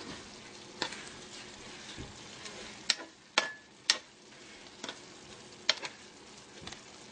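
Fideo noodles cooking in a pan of broth give a soft, steady bubbling sizzle, broken by occasional sharp clicks and taps close by, with no talking.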